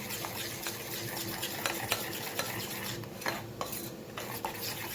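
A spoon stirs green chutney into dhokla batter in a steel vessel, producing a continuous wet swishing with frequent light metallic clinks against the bowl, close and steady with no speech.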